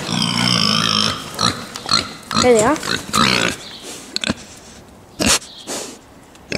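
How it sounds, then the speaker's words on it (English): Pigs on a farm grunting and squealing in short bursts close by, mixed with sniffing noises, while a person talks in between. "Let's go see the pigs then."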